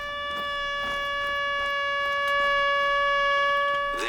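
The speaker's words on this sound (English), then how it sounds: "It's like a horn or something. An air horn." An air horn blasting from a phone app in a wooded outdoor spot, a steady sustained tonal blare with strong harmonics held for about four seconds, loud and continuous.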